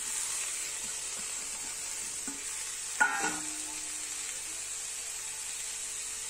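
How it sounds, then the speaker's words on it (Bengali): Boiled potatoes stirred and frying in a pan for singara filling: a steady soft sizzle runs throughout, with a brief clatter of the spoon in the pan midway and no talking. "সেদ্ধ আলুগুলো দিয়ে দিচ্ছি।"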